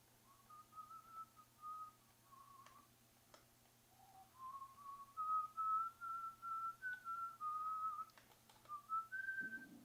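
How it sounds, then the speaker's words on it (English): A person whistles a tune during a live stream, a wavering melody in bursts across the whole stretch, fairly close and clear with no talking. "I shouldn't whistle copyrighted songs on a live stream"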